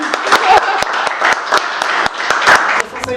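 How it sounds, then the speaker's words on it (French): Audience applause at a business school event, a few seconds of lively close clapping with distinct individual claps and voices talking and cheering through it. "On applaudit."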